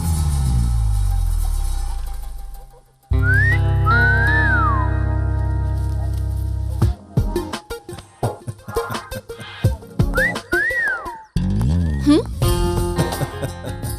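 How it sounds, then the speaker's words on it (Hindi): A person whistles in a Hindi-dubbed film scene, giving two bursts of short rising and falling whistled notes over background music, with voices talking around them. "सीटी बजाना आती है कि नहीं, वही देख रहा था।"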